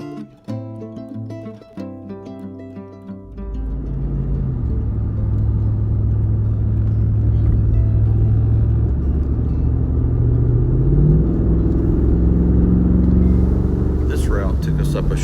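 A car drives through a small town toward the Great Smoky Mountains National Park near Bryson City, with a steady, loud engine and road rumble that swells after a few seconds and holds. Voices and other sounds come briefly at the start.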